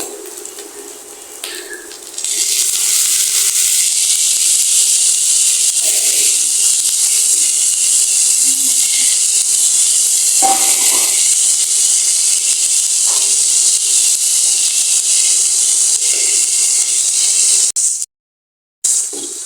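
Ginger-garlic paste and cumin paste sizzling in a pan with fried onions for a dried Bombay duck (loitta shutki) bhuna. A loud, steady hiss swells in early and holds, then cuts briefly near the end.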